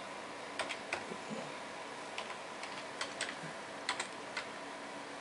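Keys on a computer keyboard are tapped in scattered, quiet clicks, some single and some in quick pairs, over a faint steady background hum.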